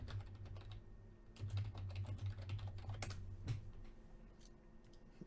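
Rapid clattering keystrokes on a computer keyboard, close and fairly quiet, come in uneven bursts with a few louder taps and brief pauses, with no talking.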